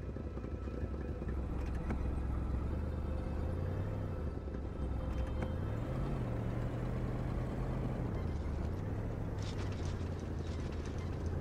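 Engine drone of a car driving through a snowy northern landscape in the game Kona, a steady low hum with pitch rising and falling as it speeds up and slows, continuous throughout with no talking.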